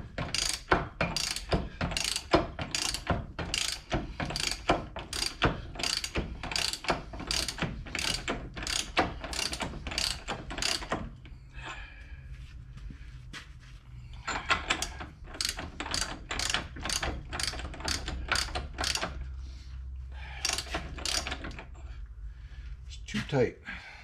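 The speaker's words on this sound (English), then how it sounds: "Pull the pinion back off, the yoke back off here" A ratchet works on the pinion yoke of a Ford 9 inch differential, with rapid repeated clicking in loud bursts and a short pause midway. Speech is heard faintly.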